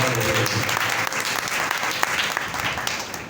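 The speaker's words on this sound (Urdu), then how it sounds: "زوردار تالیاں بجائیں" A church congregation clapping loudly together, a dense burst of applause that fills the room, strongest at the start and gradually thinning, with no speech over it.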